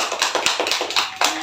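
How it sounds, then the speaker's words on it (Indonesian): Hands clapping in a small group counseling session, a quick run of sharp, close claps lasting a second or so. "Tepuk tangan."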